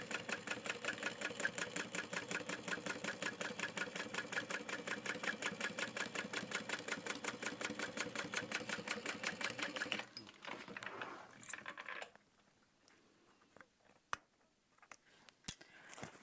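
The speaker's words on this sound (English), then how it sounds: "I'm gonna top stitch the bottom" A sewing machine top stitching a handbag runs in a fast, even, close-up rattle for about ten seconds, then stops, leaving a few quiet clicks and handling noises.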